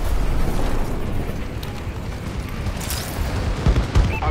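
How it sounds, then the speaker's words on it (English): Dense, continuous rumbling blasts from a bombing run in the Call of Duty Advanced Warfare video game, a loud steady roar of explosions with a couple of sharper booms near the end. "Friendly bombing run incoming."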